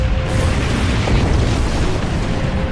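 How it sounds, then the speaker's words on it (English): A torpedo detonates in the Star Trek Online space battle game, heard as a loud, dense, sustained booming roar that fills the whole moment with heavy low rumble and crackling noise. "Oh, so that's a torpedo."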